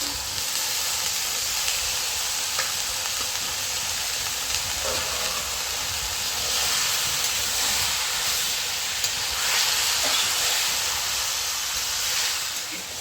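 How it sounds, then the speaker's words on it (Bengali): Fried cabbage and potato pieces go into a pan of cooked spice masala, giving a steady, broad sizzling hiss that holds evenly throughout with no talk over it. "ভেজে রাখা বাঁধাকপি দিয়ে দেবো, ভেজে রাখা আলুগুলো দিয়ে দেবো"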